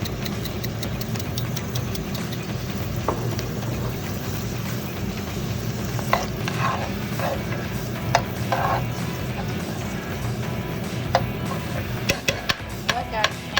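Garlic and chives sauté with noodles in a pan, giving a steady sizzle under a low hum. A utensil scrapes and clinks against the pan now and then.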